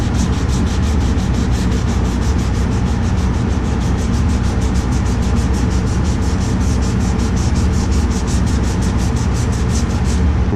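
Steady, rapid back-and-forth strokes of 320-grit sandpaper knocking down thick primer rasp continuously, loud and close, with no voices.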